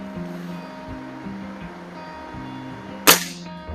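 A BSA Meteor Super air rifle fires a single sharp, close crack near the end, standing out briefly over a low background hum.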